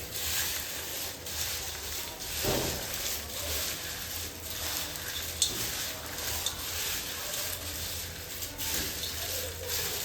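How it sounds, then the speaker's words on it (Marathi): Homemade corn chivda gets stirred in a pan with chili powder and salt, a soft continuous scraping and rustling with gentle sizzle underneath and a few faint clinks of the spoon, steady and quiet for about ten seconds. "आता आपण हे छान असं एकजीव करून घेऊया"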